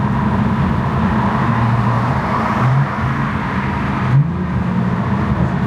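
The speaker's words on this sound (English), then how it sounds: "Alright, I'm gonna just wait till this traffic goes by." Road traffic passing beside a parked tuned car, a continuous loud roar of engines and tires with a couple of vehicles surging past, no voices over it.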